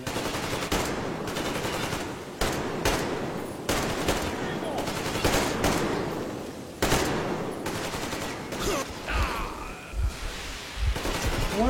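Video game guns fire in loud, dense bursts of rapid automatic shots, with brief pauses between volleys and a few single louder blasts, sounding close and sustained.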